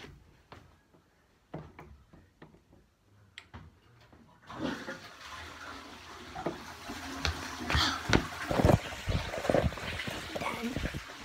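Toilet flushing in a home bathroom: a sudden rush of water that swells after a few quiet seconds of small knocks, then churns and gurgles steadily at close range.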